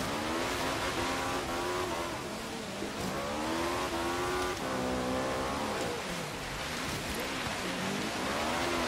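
In Forza Horizon 3, an Ariel Nomad's engine revs hard through repeated rising and falling surges as it accelerates out of corners, with gear changes and a constant racing drone.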